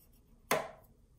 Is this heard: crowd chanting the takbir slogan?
no